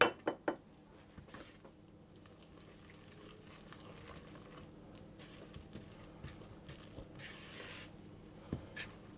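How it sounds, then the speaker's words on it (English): Sultanas are stirred through fairy cake batter in a bowl, a soft, continuous patter of mixing with a few sharp clinks of spoon against bowl at the start and end. "I'm going to add in my sultanas and just mix those through as well."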